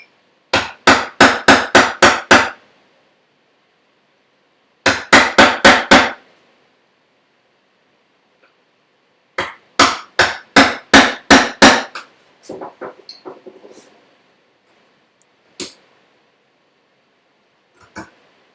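A chisel struck with a mallet while chopping down into a wooden tusk tenon in a woodshop: rapid bursts of sharp, loud knocks in groups of six to ten, separated by pauses, then lighter scattered taps.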